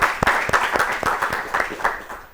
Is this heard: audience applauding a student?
yes